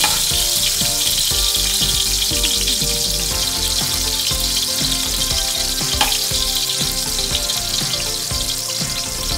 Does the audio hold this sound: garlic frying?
yes